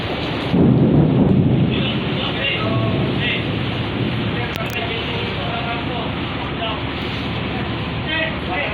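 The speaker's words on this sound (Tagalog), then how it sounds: "umuulan talaga oh, malakas ulan oh" Heavy rain pours at sea during a ship-to-ship operation alongside a bunker barge, a dense continuous hiss with low rumbling, while people talk beneath it.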